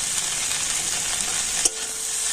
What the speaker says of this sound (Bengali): তো ম্যাগি মশলাটা দিয়ে আবার একটু কষে নিচ্ছি